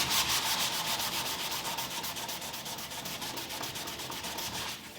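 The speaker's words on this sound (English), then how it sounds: "what's happening when you're sanding it down" A 1971 Opel Manta A door jamb being sanded flat with a soft foam sanding pad, close and continuous rhythmic scrubbing strokes with no talking.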